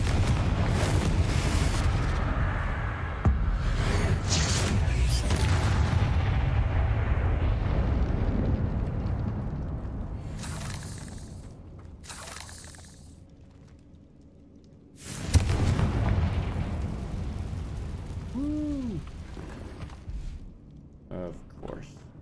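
In the Hogwarts Legacy video game, a Confringo spell explosion sets off a loud, sustained booming rumble that fades and then bursts out again in a second blast. A voice talks over part of it.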